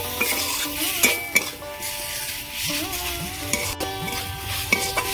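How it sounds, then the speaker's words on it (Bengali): Small chicken pieces being stir-fried in a pan, with steady loud sizzling and repeated scraping and clinking of a spatula against the metal, close and continuous. "ভালো করে কষিয়ে নেব মাংসটা।"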